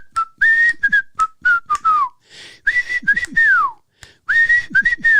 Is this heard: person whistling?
yes